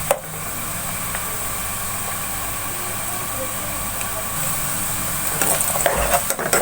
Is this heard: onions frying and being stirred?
yes